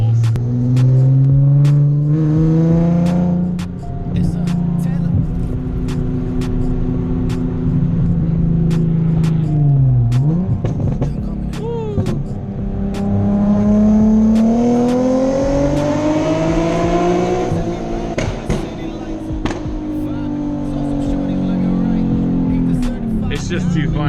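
Straight-piped Nissan 370z exhaust revving loudly inside a tunnel, rising and falling through repeated throttle sweeps with a sharp dip and climb midway, close and echoing, with voices talking over it.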